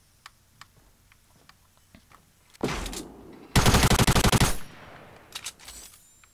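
Video game gunfire: a burst of rapid automatic shots rattling loud and close, with a few lighter clicks and a brief swell of noise before it.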